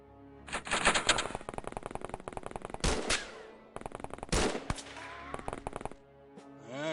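SMG fire in the video game OpenXcom, rapid rattling bursts of close automatic shots in several runs with short breaks between, each burst ending in a sharp crack.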